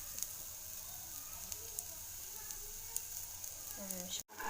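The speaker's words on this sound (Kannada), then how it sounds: "ಓಕೆ, ಸ್ವಲ್ಪ ಎಣ್ಣೆಯಲ್ಲಿ ಬಾಡಿಸ್ಕೋಬೇಕು" Onion and garlic sauté in a little oil in a pan for cauliflower fry, giving a soft, steady sizzle with small pops. A brief voice comes in near the end.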